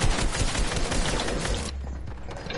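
Dense bursts of gunfire from several shooters in a creative-mode solos, duos and squads shooter game, a loud continuous barrage of rapid shots that thins out after a moment.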